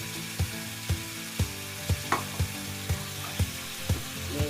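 Ginger garlic paste fries in a pan, a steady sizzle under evenly spaced, rhythmic knocks and scrapes from a spoon stirring about twice a second.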